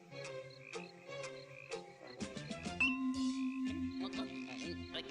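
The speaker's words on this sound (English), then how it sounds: "when a froggy croaks, he wants to be your friend" Croaks from a frog in an animated fairy tale come in a rhythmic run of repeated croaking calls, mingled with cartoon music, fairly faint.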